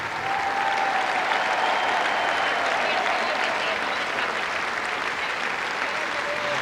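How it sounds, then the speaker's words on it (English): Sustained applause from a large Conservative Party conference audience for John Major's speech, a dense, even roar of clapping that holds steady throughout. "the cabinet all applaud before he's uttered a single word"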